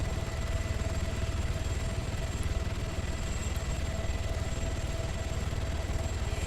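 Steady rotor and engine drone of a helicopter flying in the game Altis Life, constant and fairly loud throughout with no voices.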